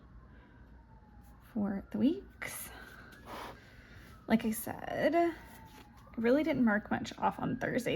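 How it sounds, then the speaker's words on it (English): Faint siren tones from outside drift up and down behind a soft-spoken voice, with occasional pen scratching and paper sounds close by indoors. "I'm sorry about the sirens outside."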